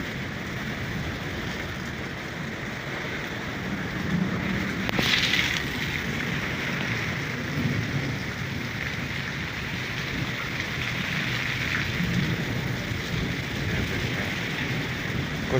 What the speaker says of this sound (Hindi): सबसे ख़तरनाक तूफ़ानी बारिश और उसका मंज़र ये देखें